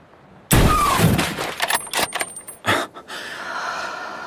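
A single loud, sharp rifle shot cracks out, followed by a rattling echo that fades away over a few seconds.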